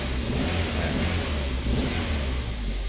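A Toyota Avanza engine with its check-engine light on is revved up from idle, a loud steady roar that holds and swells slightly across the whole stretch with no talking.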